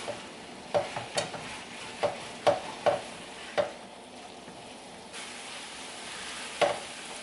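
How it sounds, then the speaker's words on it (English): Teriyaki stir fry sauce made with sesame oil and cornstarch thickens in a pan under a low, steady sizzle. A spoon strikes and scrapes the pan in about eight distinct knocks. "We're going to stir it until the sauce thickens"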